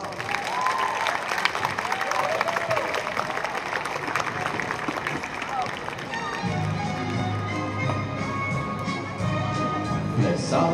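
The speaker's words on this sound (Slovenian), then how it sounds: "In glasen aplavz." Loud, sustained applause from an outdoor crowd for quadrille dancers at a town square, dense clapping throughout with voices mixed in.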